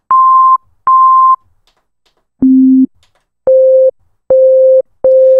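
A series of clean electronic sine beeps, some higher and some lower in pitch, each held about half a second with silent gaps between.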